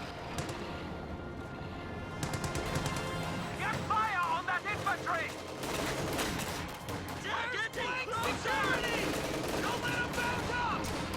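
Gunfire in the real-time strategy game Company of Heroes, with dense bursts of rifle and machine-gun fire, impacts and battle noise running continuously alongside shouted in-game voice lines.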